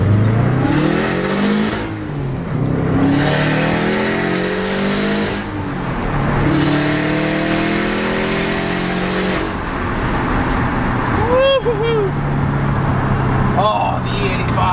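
Turbocharged car on E85 with an external wastegate accelerating hard through rising gear pulls, engine roaring loud and close from inside the cabin, with brief lifts between gears and a voice speaking near the end.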